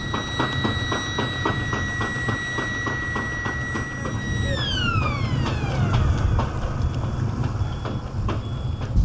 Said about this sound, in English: that siren means this is a very bad place to stand right now